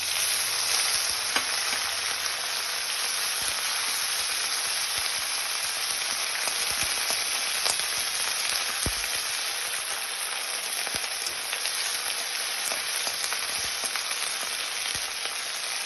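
Chopped tomato with ginger paste frying in a pan for a vegetarian potato curry, a steady dense sizzle with scattered pops and soft stirring throughout, close and continuous.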